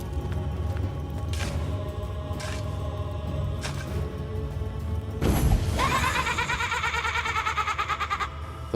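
A sheep bleats in the video game Divinity: Original Sin Enhanced Edition during a dungeon scene, with a loud wavering bleat standing out over the game's background sounds.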